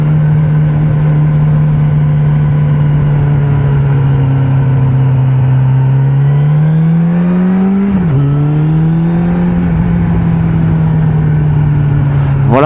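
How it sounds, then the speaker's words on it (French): Engine of a Suzuki GSXF 600 motorcycle with 80 horsepower heard while riding, a loud, steady mid-pitched drone with wind noise that rises smoothly, dips briefly at a gear change, then holds steady again. "c'était la GSXF 600 de 80 chevaux, notre ami Vampa"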